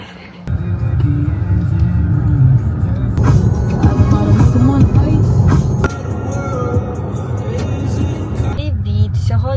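Steady low road rumble from inside a moving car driving on the road, a continuous engine and tyre drone with occasional brighter clatters, no clear speech.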